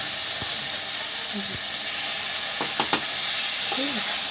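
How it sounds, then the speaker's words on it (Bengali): Spice paste for a Bengali egg curry fries in oil that has started to separate, making a close steady hiss with a few brief stirring knocks and short tonal squeaks. "মশলাটা কষানো হয়ে গেছে দেখবেন দেখুন তেল ছেড়ে দিয়েছে মশলাটাকে"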